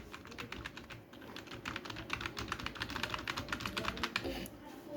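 Steady, fast typing on a computer keyboard while working in MS Word, a dense run of clicky keystrokes with no talking.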